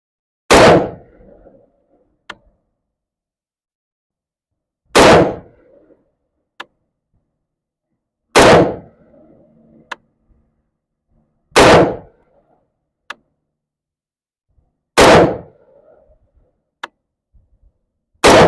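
A Daniel Defense V7 rifle fires while being zeroed on a target: five loud, sharp reports spaced a few seconds apart, each with a short decaying echo and faint clicks between shots.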